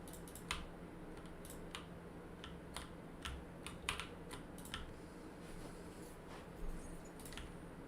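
Quiet, irregular clicks from a computer mouse or keyboard during a gaming stream, sharp little taps scattered over a faint steady hum with no one speaking.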